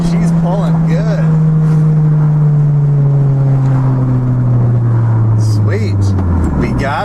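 Honda Prelude on a test drive after an alternator replacement, accelerating hard with VTEC engaging: a loud, close engine note climbing steadily in pitch, with a brief lift before the next gear and voices talking over it.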